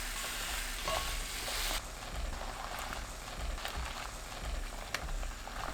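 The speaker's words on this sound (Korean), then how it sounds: "팬에 양파, 새송이버섯, 물 3큰술, 다진 마늘 반큰술 넣고 중불로 3분 볶아주세요." Onion and king oyster mushrooms with a little water and minced garlic sizzle and steam in a pan over medium heat, a steady loud hiss with occasional scraping as they are stirred.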